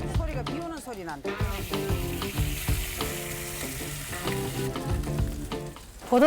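Mackerel grilling at a restaurant in Busan's Jagalchi market, a steady rain-like sizzle and crackle running throughout with people talking over it.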